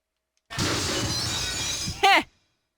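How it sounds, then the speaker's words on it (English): A ceiling light in the Corpse Party video game comes crashing to the floor, a loud glassy shattering crash ending in a short bright burst of breaking shards. "One of the lights from almost directly above Shimada came crashing to the floor with tremendous force"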